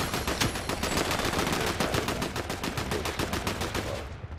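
Rapid automatic gunfire in the Fortnite video game, a dense, loud stream of shots rattling steadily for several seconds with no pause.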